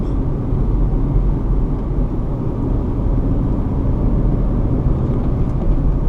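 A deep, steady Ford Mustang GT V8 engine rumble drones on at close range, low and throaty, without much change throughout.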